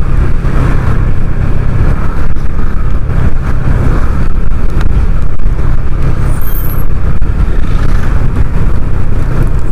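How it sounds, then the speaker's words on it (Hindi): Heavy road traffic heard from a TVS Ntorq scooter near Ramban, a loud continuous roar of passing cars, buses and trucks with a brief air-brake hiss partway through. "देख रहे हो ट्रैफिक?"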